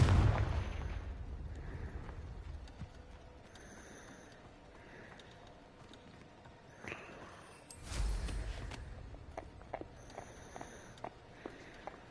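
Confringo blasting spells in the game Hogwarts Legacy go off as two booming bursts, one near the start and a louder one about two-thirds through, with faint footsteps and small pops and clicks between them and no voices.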